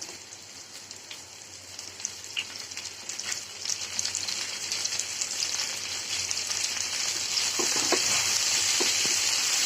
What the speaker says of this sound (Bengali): দিয়ে দিচ্ছি ক্যাপসিকাম